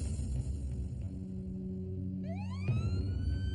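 An ambulance siren starts up and rises in a wailing sweep over a low engine hum, fairly loud and close, beginning partway through.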